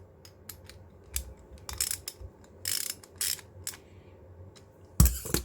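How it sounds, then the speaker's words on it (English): Nylock nuts are fitted onto M5 bolts for a custom clip-on clamp on a Moto Guzzi Le Mans III, giving quiet, close metallic clicks and ratcheting taps in irregular short bursts, ending with one sharper knock. "At the moment I am running the bolts through and then fitting a couple of nylock nuts to help secure as lock nuts."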